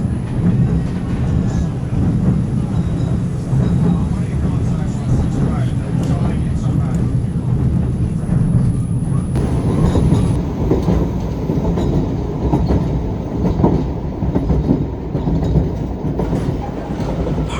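A White Pass Scenic Railway train near Skagway, Alaska, runs along a canyon with a steady, continuous rumble and rolling rail noise throughout, with faint voices mixed in.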